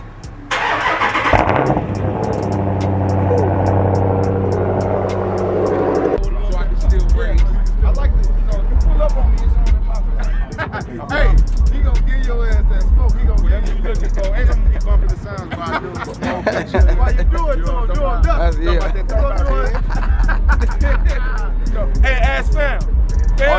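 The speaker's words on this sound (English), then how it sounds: "I gotta hit y'all with the very, very classic, patented cold start" A Dodge with the 392 engine cold starts: a starter whir, then the engine catches with a loud bark and settles into a deep, rumbling, high idle with throttle blips, close and loud while people talk over it.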